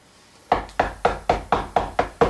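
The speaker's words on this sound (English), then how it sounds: "Who knocks so hard?" Eight hard, evenly spaced knocks on a door in a film of Romeo and Juliet, close and loud, each a sharp rap following quickly on the last.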